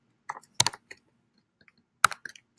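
Several sharp, close keystrokes on a computer keyboard, typed in two short bursts separated by a pause, with no talking.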